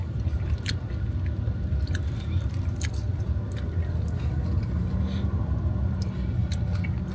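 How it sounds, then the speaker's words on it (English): Close crunching and chewing of fries at a chicken and gyro restaurant, steady wet bites and mastication near the mouth with faint room rumble behind and no talking. "Fries are crunchy."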